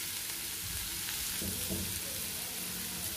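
Beetroot fries with roasted gram powder in a pan, giving a steady, even sizzle with a few faint stirring scrapes underneath.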